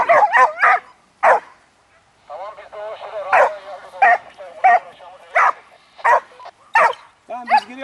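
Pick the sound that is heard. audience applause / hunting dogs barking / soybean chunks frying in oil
hunting dogs barking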